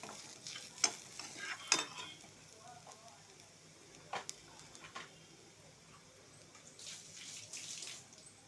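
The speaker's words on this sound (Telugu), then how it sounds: "ఇది వేగిన తర్వాత కొద్దిగా ఉప్పు, కొద్దిగా కారం వేసి మంచిగా ఇట్లా కలుపుకోవాలి." Fried corn snacks mixed with salt and chili powder are stirred in a pan, giving faint scraping and a few sharp clinks over a soft sizzle, quiet and intermittent.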